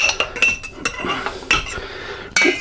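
Zucchini pieces are pressed down into a glass jar for sweet pickles, giving a run of close clinks and knocks against the glass and rustling squishes in short uneven bursts, with a sharper clatter near the end.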